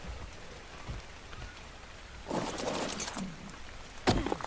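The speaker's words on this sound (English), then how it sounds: "now that it's raining" Rain falling in the survival game ARK on Lost Island, a steady soft patter throughout with a few louder bursts of splashing near the middle and end, no voices.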